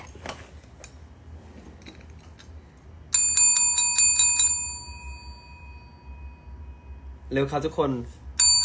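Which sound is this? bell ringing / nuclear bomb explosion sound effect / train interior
bell ringing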